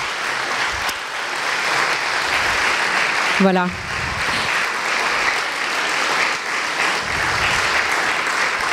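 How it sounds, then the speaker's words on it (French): An audience at a debate between candidate teaching teams applauds the two teams, steady dense clapping lasting throughout, with a brief spoken word midway. "Je crois qu'on peut applaudir quand même pour nos deux équipes candidates."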